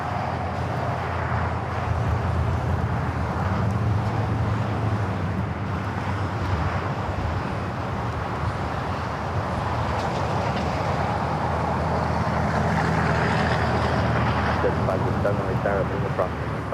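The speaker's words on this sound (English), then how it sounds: "United Airlines Flight 2688 coming up from New York and a 777-200 next. Heavy arrival here on the south side." A Boeing 777-200 heavy jet arrives on the south side at Los Angeles International Airport, a sustained broad engine roar and rumble holding steady throughout, with commentary talking over it.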